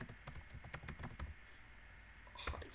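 Fingers type an npm install command on a computer keyboard, a quick run of close, quiet key clicks in a steady rhythm, then a pause before one final firmer keystroke.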